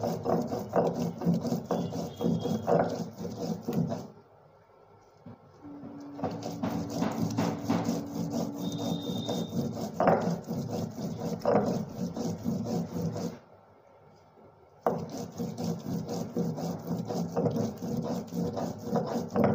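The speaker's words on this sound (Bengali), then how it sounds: "দাঁড়িয়ে দাঁড়িয়ে মশলা বাটতে ভালোই লাগে" Spices ground by hand on a grinding stone: a close, rhythmic rasping rub of stone on stone in steady back-and-forth strokes, pausing briefly twice before resuming, with no voices.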